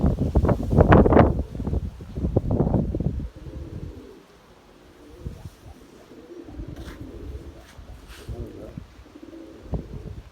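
Pigeons coo softly amid gusty wind that buffets the microphone loudly at first, then settles into a quieter rushing background.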